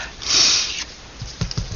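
Short sniffles through the nose, one longer breathy intake followed by several quick soft sniffs, close and alone without talk.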